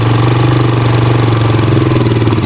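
A quad bike engine revs steadily and loudly as its clutch is slowly released by a first-time rider on a farm, a continuous throbbing drone with no talk over it.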